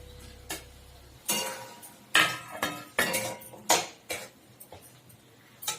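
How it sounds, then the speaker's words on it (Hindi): Potato pieces dropped one after another into a cooking pan in a home kitchen, giving a series of about eight sharp clattering knocks at an uneven pace, close and clear with no talking. "एही में आलू आब खसा रहल छियै"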